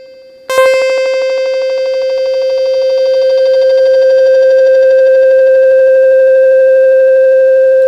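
A sustained high C note from a keyboard fed through an emulated analog delay with feedback turned up, a loud steady tone with stacked overtones and rising hiss and noise building beneath it.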